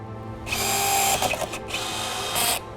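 Rivet gun pulling and crimping a long rivet while fitting rocker winglets onto a C7 Corvette, two close, loud bursts of mechanical whirring separated by a brief pause.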